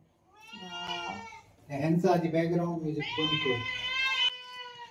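A cat meows repeatedly in a kitchen where prawn curry is being prepared, drawn-out close cries with a brief pause, the last one long and insistent.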